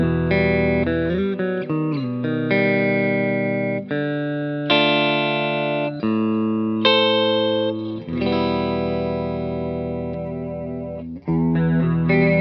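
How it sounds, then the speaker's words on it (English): A Gibson 335 electric guitar played straight into a Romany Pro amp rings out in a sequence of sustained, slightly driven chords and notes with audible modulation, loud and up close with no talk. "So the 335 straight into the amp sounds like this."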